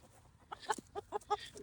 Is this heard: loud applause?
no